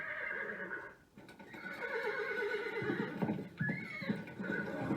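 A horse neighs and whinnies loudly and close, with a long rising-and-falling call and a second whinny near the end, over faint background noise.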